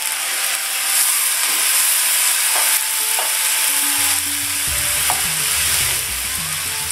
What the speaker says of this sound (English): and then I just add the pulp of the tomato in